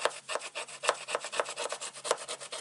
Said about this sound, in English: come in with your bone folder, and then you can lay that down, and then just scrape that way